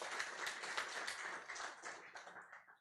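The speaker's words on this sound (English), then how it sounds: "Round of applause." An audience at a cloud-versus-on-premise debate event claps for introduced engineers, a dense round of applause that starts full and gradually thins and fades toward the end, with no talk over it.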